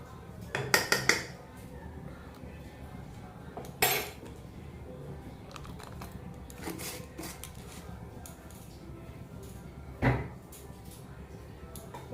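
A metal pressure cooker lid is handled and locked shut over vegetarian khichuri, with a cluster of sharp clanks, then a single clank and a final metallic knock in a quiet kitchen.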